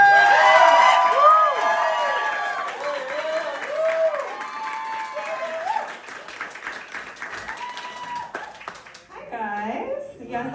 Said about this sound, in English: I want you guys to give a great big round of applause.